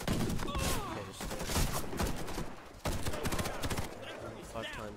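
Gunfire in the online shooter Warface, a dense run of rapid shots and impacts layered over game sound effects and music, continuous and loud throughout the clip.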